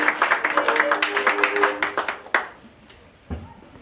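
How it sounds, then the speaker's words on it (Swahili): A crowd claps in quick, dense applause that fades away after a couple of seconds, with faint voices or music underneath, followed by a few isolated thumps. "As we put our hands together."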